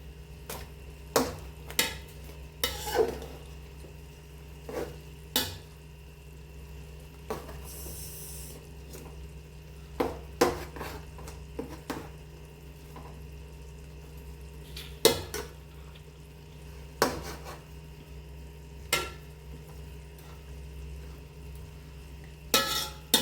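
Chicken for chicken mandi is turned over in a pot, giving scattered clinks and scraping knocks of a utensil against metal over a steady low kitchen hum, with no talking.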